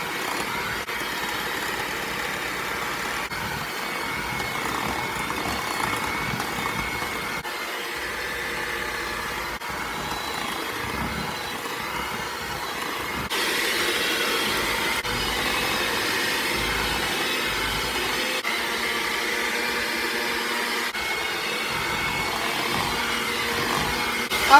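An electric mixer on low speed beats powdered sugar into cherry cream cheese frosting, a steady motor whir that carries on evenly, slightly louder in the second half.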